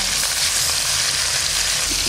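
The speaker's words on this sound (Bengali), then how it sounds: "এবার মাছ ভাজি" Fish fries in a pan with a dense, loud, unbroken sizzle of hot oil, close and even throughout with no talk.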